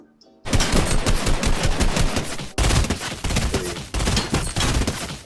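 Fortnite gray and gold assault rifles firing up close in an aim assist test, three long rapid-fire bursts of loud automatic gunfire separated by brief breaks.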